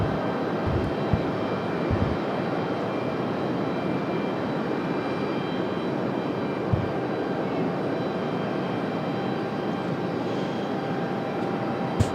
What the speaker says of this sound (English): Looks like we've got an A320 pushing back over here on the left side of Terminal 2.